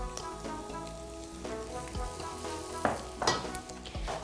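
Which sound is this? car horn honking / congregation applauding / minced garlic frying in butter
minced garlic frying in butter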